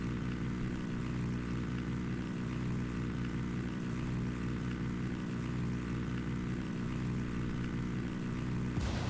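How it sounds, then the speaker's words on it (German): Helicopter nearby in the video game Ghost Recon Wildlands: a steady rotor drone with regular low thumps pulsing about every second and a half, continuing unbroken and moderately loud. "Helikopter hier in der Nähe."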